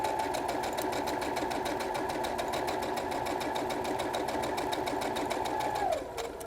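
Domestic sewing machine stitching a fabric dart forward and back to lock the stitches, a steady close rapid whirring hum with even motor drone, running continuously before slowing to a stop at the very end.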